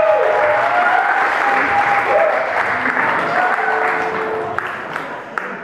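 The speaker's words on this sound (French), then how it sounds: "Applaudissez très fort" Loud, dense audience applause at a birthday celebration in Montreux, sustained throughout with a faint tone of voices or music underneath.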